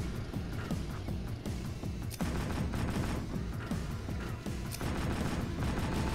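Automatic sentry tank in a video game firing its guns continuously, a dense, loud stream of rapid gunfire and impacts with no break throughout.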